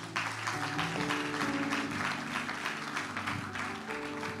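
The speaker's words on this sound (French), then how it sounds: "Acclame très fort." Steady, continuous applause from a church congregation, with cheering voices mixed into the sustained clapping at an even level throughout.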